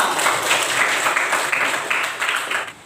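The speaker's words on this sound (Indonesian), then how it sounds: "Minta tepuk tangan untuk kalian semua" Short burst of applause from a classroom of children during a lesson, close and fairly loud clapping with uneven rhythm over a few seconds.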